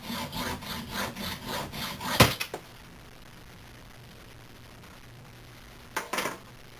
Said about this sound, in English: go ahead and make my next cuts